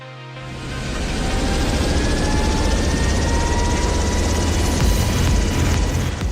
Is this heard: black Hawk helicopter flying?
yes